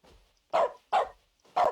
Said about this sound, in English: I got a dog with me.